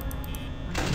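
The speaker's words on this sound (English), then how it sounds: "Close the door." In Five Nights at Freddy's, a metal security door slides shut with a brief mechanical whir ending in a heavier slam, short and close with no voices.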